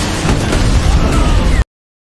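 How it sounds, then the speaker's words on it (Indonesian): A rocket-propelled grenade blast from the war film The Ambush: a loud, rumbling explosive roar that lasts under two seconds and then cuts off abruptly. "langsung dihantam dengan tembakan RPG"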